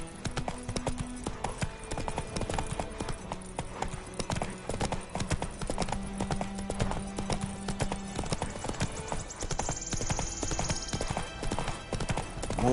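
Roach the horse from The Witcher 3 gallops in a fast, continuous rhythm of hoofbeats, close and prominent over a low game soundscape with a faint whinny in places.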